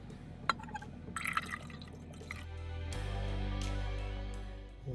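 Liquid is poured off from a container during refining of gold-filled scrap: a few clinks and splashes first, then a steady, rising stream pouring for a couple of seconds.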